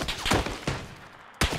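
Gunfire in PUBG, a duo first-person battle royale match: a few sharp, loud shots in quick succession, with a pause before a final burst near the end and no talk over them.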